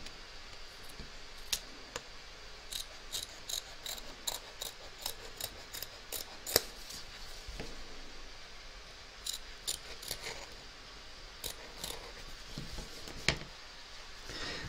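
Scissors snip around the edge of a large Mrs Claus embroidered applique after it comes out of the hoop, a long run of quiet, sharp clicking cuts at an irregular pace with no talking.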